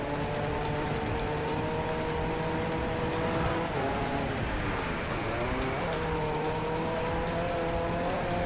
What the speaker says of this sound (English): One of the cars with the better engine noises, much like the Pagani Zonda.